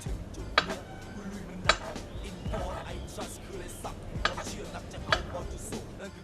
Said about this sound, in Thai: เสียงเขียงนี่ ดังมากนะ